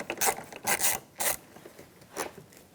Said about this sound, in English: screw right out, Phillips head.